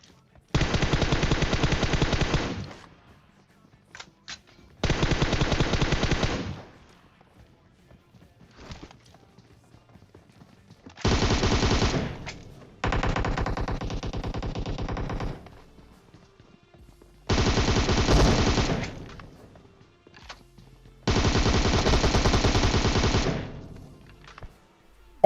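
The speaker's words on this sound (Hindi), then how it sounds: "बीच रोड में गाड़ी रोक के यार गोली चला रहे हैं" Automatic gunfire in the PUBG Mobile battle royale game comes in about six loud, sustained bursts separated by near-silent gaps, with faint footsteps and small movement sounds in between.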